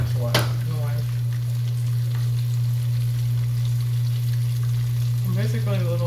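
Small pieces of funnel cake batter fry in hot oil with a steady, dense sizzle and scattered pops throughout, heard up close. A steady low hum runs underneath, and a voice is briefly heard near the start and end.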